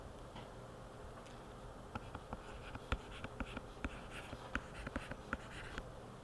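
Pen or marker writing on paper or a board during a math lesson, a series of soft irregular ticks and scratches over a quiet hiss, with no talking.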